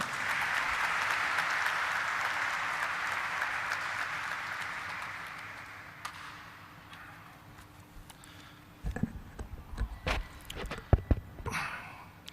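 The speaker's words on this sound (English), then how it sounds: "Can we have a huge round of applause for him?" An indoor audience at a stock exchange listing ceremony claps, loud and steady at first, then dies away into scattered claps and room noise.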